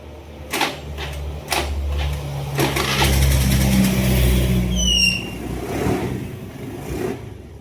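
A SIP 125 scooter engine runs on test after a clutch lining and bell replacement, starting up and revving loudly and steadily up close, with a brief higher whine near the end.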